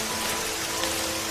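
Quiet rain falls as a steady, even hiss with no pauses, alone and without any voices.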